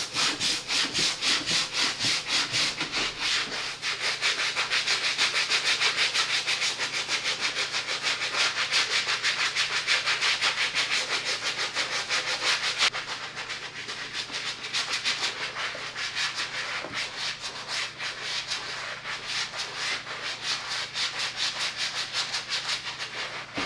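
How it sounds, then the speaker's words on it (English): A medium-bristle brush scrubs the midsoles of a pair of Nike ND 2 sneakers, giving a steady, close, rapid rasping that runs without a break and eases slightly partway through, with no talking. "let's go ahead with Rejuvenator's medium bristle brush to hit up"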